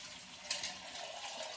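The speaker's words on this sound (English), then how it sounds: "I need to add at least a couple more cups of water." Reverse osmosis filtered water poured into a kombucha batch: a soft, steady stream of running liquid with a brief splash early on, faint and close, no talking.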